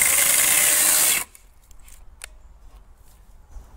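A Sturm CC9930CL cordless brushless chainsaw cutting wood on a nearly drained battery, a loud steady whine for about a second before it abruptly stops and leaves near quiet with faint clicks.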